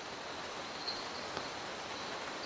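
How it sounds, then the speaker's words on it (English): Heavy rainstorm pouring down on a rainforest, a dense, steady hiss that stays even throughout with no break. "they're hit by a heavy rainstorm"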